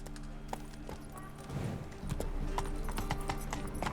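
Horse hooves clip-clop in The Witcher 3 video game, a quiet, even trotting rhythm that grows slightly louder partway through, with a low ambient hum underneath.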